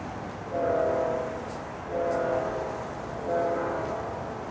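A train horn blows three times in a rising-and-fading pattern, sounding from a distance over a steady rumble of rail noise.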